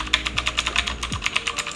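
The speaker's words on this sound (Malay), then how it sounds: "Ini dia bukan jenis keyboard mechanical. Jadi dia tak ada bunyi cak." Quick typing on a non-mechanical Machenike K7 gaming keyboard: soft, muted key taps in a fast, fairly even rhythm, close up and alone.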